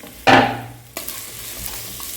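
Sliced onions hit a hot pan for sautéing in a Kerala jackfruit pepper roast gravy, a sudden loud sizzle that fades, then a stir and a softer steady crackle, close up.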